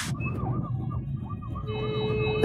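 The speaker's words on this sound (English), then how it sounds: "an ambulance" Ambulance siren wailing in a repeating up-and-down pattern amid a massive traffic jam, steady and moderately loud over low rumbling road noise, with a second steady tone joining partway through.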